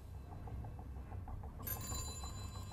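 A telephone rings in the Furiosa film from the Mad Max saga: a quiet series of rapid, repeating bell trills, fairly faint beneath a low rumbling film soundtrack, with a brighter tonal layer entering partway through.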